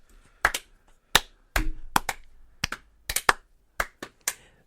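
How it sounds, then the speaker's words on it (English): A slow, uneven clap from an office group in a Max Payne 3 scene: about a dozen sharp, separate smacks spread over several seconds, with irregular gaps between them and no talking. "Slow clap."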